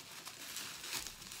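Plastic packaging around a cosmetics product, a small bag from Makeup Revolution, crinkles and rustles steadily at close range, with brighter crackling bursts midway and toward the end.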